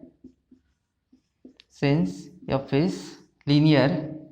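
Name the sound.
writing during a maths lecture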